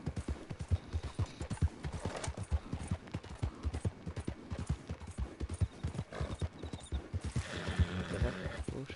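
Video-game horse hooves clop in a quick, steady rhythm, close and clear, with a neigh rising near the end.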